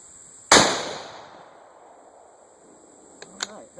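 A single sharp, loud report from a Ruger American Ranch Rifle, a short-barreled gun firing Hornady Steel Match .223 ammunition, rings out and decays over about a second, followed later by a few faint distant clicks.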